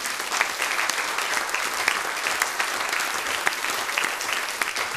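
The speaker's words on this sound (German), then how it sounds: "diesen zwei Männern riesigen Applaus" Big, sustained applause fills a hall at a Swiss folk music gathering in the LuegArena, a dense wash of many hands clapping evenly throughout for two men.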